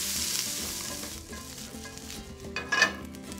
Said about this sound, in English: I'm going to let these cook until they have softened nicely, those onions have, and have begun to brown.